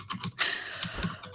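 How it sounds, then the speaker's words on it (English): Computer keyboard typing clatters in quick, uneven bursts of close, crisp key presses, fairly prominent with no talking over it. "you can probably hear my keyboard very loudly, right?"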